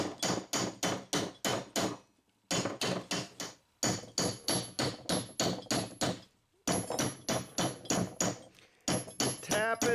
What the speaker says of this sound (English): to cut a hole, they just tap it and turn it